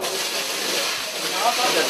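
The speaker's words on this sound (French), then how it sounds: "des veloutes de fumée et de vapeur d'alcool s'échappent de vieux bidons métalliques où est distillé le Changa" Steam and alcohol vapour hissing from old metal drums where Changa is being distilled beside a river, a continuous broad hiss that stays level and close for the whole short stretch.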